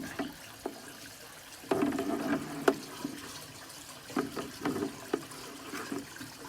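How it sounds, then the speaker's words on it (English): Water gushes from a hose pipe into a barrel filter for a garden koi pond, a steady close splashing and gurgling with louder bursts. "That gets plenty of flow coming out."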